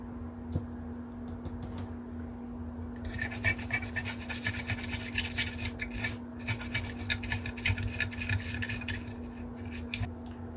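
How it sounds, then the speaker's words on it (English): A brush scrubs isopropyl alcohol across an exercise bike controller circuit board, close rapid rasping strokes in bursts, sparse at first and then steady and busy, over a faint constant hum. "let me throw some isopropyl on there just to clean it up a little more"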